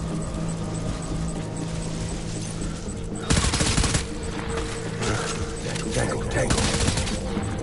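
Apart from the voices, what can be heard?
gunfire in a video game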